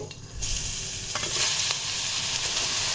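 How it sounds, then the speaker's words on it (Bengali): Carrots hit hot ghee in a pan and are stirred, setting off a bright steady sizzle with scraping stir strokes, loud and close after a brief quieter start. "গাজরটাকে দিয়ে দিলাম এবার এটাকে ভালো করে নাড়তে হবে"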